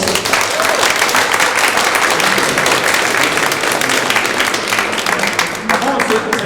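Applause from a hackathon audience at Garage48 Lviv 2015, a dense, steady wash of many hands clapping that fills the whole stretch, with voices faintly mixed underneath.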